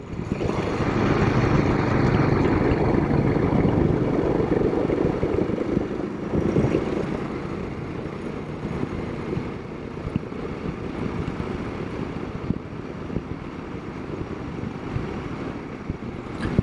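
A Royal Enfield Himalayan motorcycle lugs along slowly in 4th gear on a twisty hill road, its engine a steady low rumble mixed with wind buffeting the microphone, loudest at first and then settling slightly quieter.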